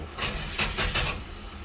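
A Nissan Patrol with an SD33 diesel engine cranking on a cold start after sitting, several rhythmic starter pulses churning in quick succession before trailing off, fairly close.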